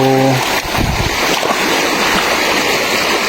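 Broad, steady rushing of a fast-flowing river current fills the whole clip, a loud continuous roar with a brief low knock near the start.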